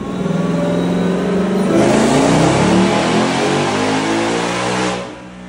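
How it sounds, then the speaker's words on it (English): A supercharged 2024 car engine running on 87-octane fuel revs up hard to at least 7,000 rpm and holds a loud, high whining roar for several seconds before easing off, close by. "It revved out to at least 7 grand."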